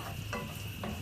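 A spoon scrapes and stirs salt and sugar into tomato passata sauce in a pan, with two quick, soft strokes over a faint sizzle. The sound is close and quiet, and no one speaks.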